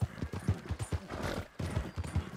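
Horse hooves clip-clopping in Red Dead Redemption 2, a steady close rhythm of loud hoofbeats from a jittery horse, continuing with a brief pause near the end.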